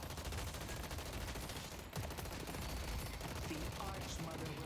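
Ivy's gun firing in the game Deadlock, a steady stream of rapid shots at low volume, continuous and busy throughout.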